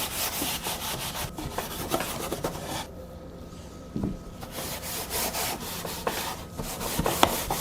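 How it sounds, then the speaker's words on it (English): Furniture salve is rubbed onto wooden nightstand drawers with a cloth, giving quiet repeated scrubbing strokes up close, with a short pause midway and a few light knocks. "I'm going to use this bourbon vanilla furniture salve to refresh the drawers a little bit."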